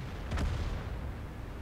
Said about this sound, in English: artillery tried to shoot me, but it didn't work